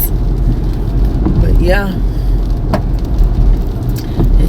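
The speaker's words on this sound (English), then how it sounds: "it's raining. It's been raining for like 3 days now." Steady rain falls outside, a constant close hiss and patter. Someone speaks briefly over it.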